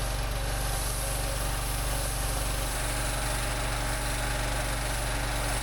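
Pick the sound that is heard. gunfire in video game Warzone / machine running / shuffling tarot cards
machine running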